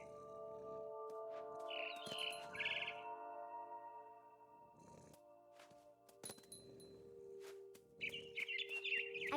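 A mama bird calls in the video game What Remains of Edith Finch, with bright chirping bursts near the start and again at the end over a steady tonal game backdrop.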